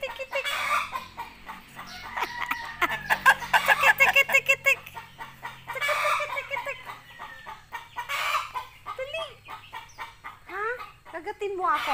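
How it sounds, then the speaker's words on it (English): Chickens cluck and call on a farm, a busy overlapping chorus with bursts of louder squawks up close, while people talk and make calling sounds over the flock. "Ah, so many chicken."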